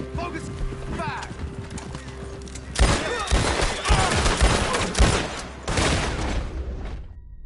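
Gunfire in a video game: a rapid volley of loud, sharp shots bursts in after a quieter stretch and keeps going in clustered bursts, layered over hoofbeats and in-game noise, with people talking.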